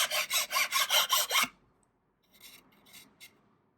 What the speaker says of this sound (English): You can see the fine sawdust coming off of it as I file this.